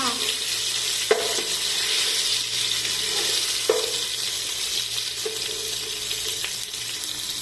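Mutton pieces frying in a pan for mandi, giving a steady broadband sizzle that carries through the whole stretch, with a few faint clinks of a utensil against the pan and no talking.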